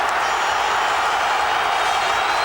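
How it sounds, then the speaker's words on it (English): Blackburn Rovers supporters at a Chelsea v Blackburn FA Cup semi-final make a steady, dense roar of cheering that stays loud and even throughout, with no single voice standing out. "It's lifted the Blackburn crowd"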